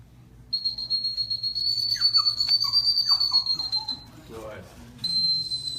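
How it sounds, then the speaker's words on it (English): A dog-training whistle sounds a steady high, thin tone for several seconds, then a second short blast, with someone speaking underneath and a dog moving nearby. "Did you guys hear that whistle pick up?"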